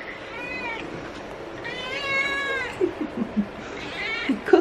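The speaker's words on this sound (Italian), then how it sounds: "Gatto chiacchierone." A white cat meows in a run of drawn-out, chattering calls, loudest in the middle, with a few soft thumps and rustles near the end; no one speaks.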